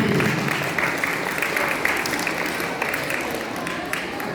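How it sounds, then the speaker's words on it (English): Audience applause for the team behind the annual Muslims Around the World event at the Islamic Center of Naperville, with steady dense clapping throughout and no voices. "So a round of applause for the entire team."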